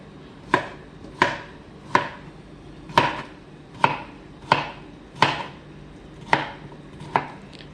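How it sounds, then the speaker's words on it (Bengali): Cucumbers are chopped on a board for a cucumber, tomato and avocado salad, with nine sharp, evenly spaced knife strikes about a second apart, close and clear, no talking. "শসা অ্যাড করে দিচ্ছি। দুটো একসাথে করে কাটো।"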